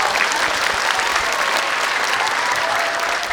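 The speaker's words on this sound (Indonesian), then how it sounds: "tepuk tangan dulu" A studio audience at a comedy show claps steadily and densely for the whole stretch, a loud, even wash of applause with no pause.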